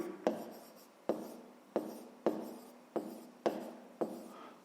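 A pen writes out an equation on paper in a quiet room, seven evenly spaced firm strokes each trailing off into a soft scratch, close up.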